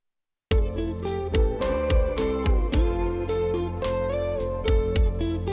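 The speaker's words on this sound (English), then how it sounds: "I added this tape plugin from Baby Audio" An indie rock song mastered through a Baby Audio tape plugin on an instrumental goodness setting plays full and dense, with steady drums, bass and guitar chords that kick in abruptly after a short silence.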